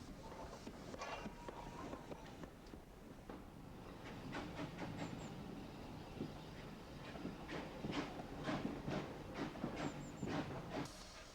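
A GWR pannier tank steam locomotive pulls a passenger train slowly away over stiff points, its wheels clicking and clacking over the track amid a steady hiss of steam, heard at a moderate distance with no talking.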